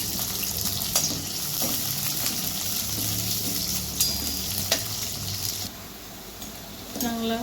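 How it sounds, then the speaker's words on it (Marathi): Onion and grated coconut frying in hot oil, a steady close sizzle with occasional stirring scrapes and small bursts, continuous throughout. "कांदा आणि खोबरं आपल्याला तळून घ्यायचं आहे याच्यात."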